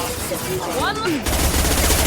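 Shotgun blasts from the Mass Effect 2 Legendary Edition video game during combat against hostiles and a mech, a burst of heavy gunfire erupting midway after a quieter stretch of battle noise.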